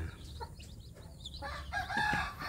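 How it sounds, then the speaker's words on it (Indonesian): A village hen clucks in short, soft bursts while brooding her newly hatched chicks, close by with low farmyard background noise. "beginilah cara induk ayam kampung menghangatkan anaknya"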